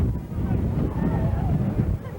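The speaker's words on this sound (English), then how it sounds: "It is very, very windy here at Mario Romano Field." Strong wind buffets the microphone at an outdoor football field during a high school game, a steady low rumbling roar that persists throughout with slight gusting swells.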